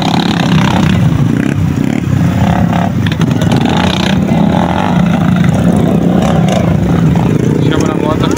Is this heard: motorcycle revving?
yes